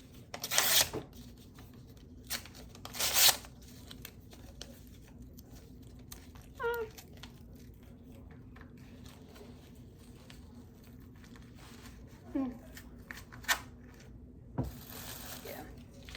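Papers being ripped up by hand while decluttering, a few short tearing bursts spread apart, close and fairly quiet over a faint steady background hum.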